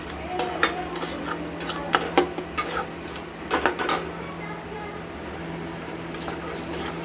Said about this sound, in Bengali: দিয়ে আমরা টক দইটাকে অনবরত নাড়তে থাকবো